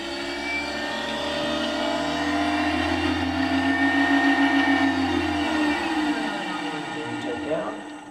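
A 1995 Solectria E10 electric car's drive spinning under throttle in forward, a steady close electric whine and hum with rising and falling tonal harmonics that tapers off near the end.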